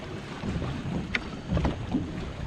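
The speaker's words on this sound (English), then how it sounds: "this wind is something else" Strong wind buffeting the microphone while drift fishing from a kayak for catfish on open water, a steady rushing roar with a few soft knocks and splashes, no talking.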